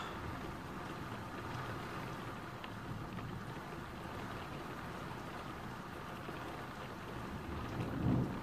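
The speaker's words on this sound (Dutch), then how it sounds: "En het gaat nog harder regenen." Heavy rain pours steadily with rumbling thunder throughout, a louder thunder swell building near the end; no voices.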